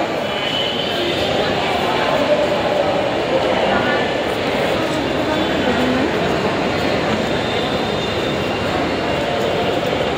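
A Dhaka metro rail train rumbles steadily into an elevated station at Pallabi, a broad continuous roar of wheels and motors under the murmur of a crowded platform.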